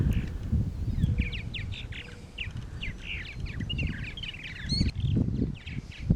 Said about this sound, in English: Even without the lake, this area supports a huge bird population